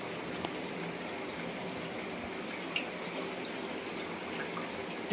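Water is poured into a simmering veg curry with a creamy cashew gravy, making a steady, soft gushing that runs unbroken at moderate-low loudness with no voices over it.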